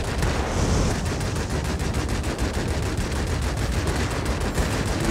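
Warplane guns in World of Warplanes firing at a tent city on an enemy military base, a continuous loud rattle of rapid shots over engine roar, sustained throughout.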